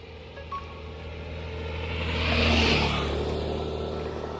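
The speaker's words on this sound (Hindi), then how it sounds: "गाड़ी आ रही थी तो" Car on Parra Road in south Goa approaching along a quiet road at sunrise, engine rumble swelling steadily to a peak as it passes close, then fading slightly, with no talk.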